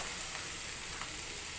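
Gravy curry sizzles and fries in a pan as it is stirred and mixed, a steady close hiss of hot oil with faint scraping, no talking.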